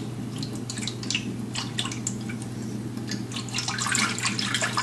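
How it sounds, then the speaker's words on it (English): Water is poured into a pet frog's cage, a thin trickling and dripping stream close by that rises slightly toward the end, over a steady low background hum, with no talking. "We'll add a little bit of water."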